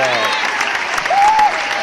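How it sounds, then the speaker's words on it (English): Applause sound effect: a steady wash of hand clapping from a crowd, continuous and fairly loud, with a voice talking over it. "hand clap, really, hand clap, applause."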